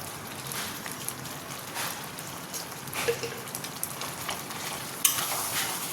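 Tangy-sweet mango pickle with roasted spice powder is stirred in a hot pan, soft scraping and gentle sizzling with a few sharper clicks from the spoon.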